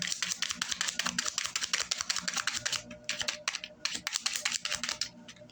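Tarot cards shuffled by hand for a Leo reading, rapid dense riffling and flicking in quick bursts with a short pause, close and fairly quiet.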